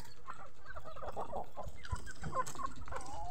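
Shamo and Basilan crossbreed chickens, with Peruvian fowl nearby, cluck and call in a farmyard, giving a busy stream of overlapping clucks and short squawks close to the microphone, without talk.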